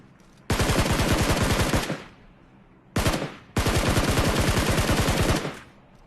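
Bursts of rapid automatic gunfire in the mobile battle royale game PUBG Mobile, two long loud sustained volleys separated by a short pause and a brief burst, close and without talk.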